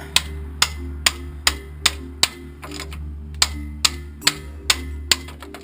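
Steady metallic hammer blows ring out against a universal joint on a 1999 Ford F-350 truck, about two per second in a regular rhythm, over a constant low mechanical hum.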